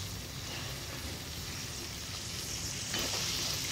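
Rice tipped into a hot frying pan for vegetable fried rice, setting off a steady, dense sizzle of oil that holds throughout and swells slightly near the end as the grains settle.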